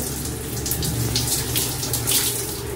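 Water from a tap pours steadily while shampooed hair is rinsed, a continuous close hiss and splash that holds at an even level throughout.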